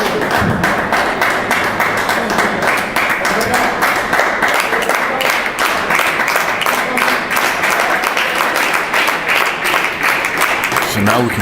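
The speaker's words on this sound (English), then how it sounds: "now we can hear the crowd going wild" Spectators at a Danish table tennis league match between B75 and Virum cheer and applaud loudly at set point, a sustained roar with dense clapping and shouts filling the hall throughout.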